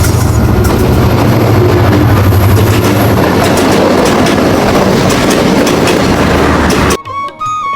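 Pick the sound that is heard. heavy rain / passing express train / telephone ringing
passing express train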